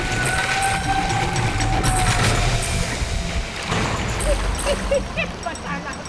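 A river raft bucks through rough rapids with water crashing and splashing against it, a dense, churning wash of noise that stays fairly steady with brief bursts of spray and knocks.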